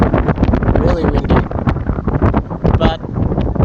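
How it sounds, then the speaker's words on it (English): Loud, buffeting wind noise batters a phone microphone throughout, a rough continuous roar with gusty swells. "it's windy. It's literally blowing the phone."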